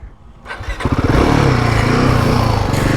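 A Royal Enfield Himalayan 450 motorcycle starts out on an expert-level dirt trail at an adventure bike festival, its engine rising from a low idle into a loud, steady revving drone close to the rider.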